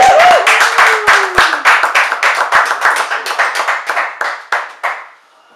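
Applause for a videographer at a Long Beach history event: sharp, fairly close clapping that starts dense and thins into a slowing rhythm of individual claps before stopping, with a brief voice at the start.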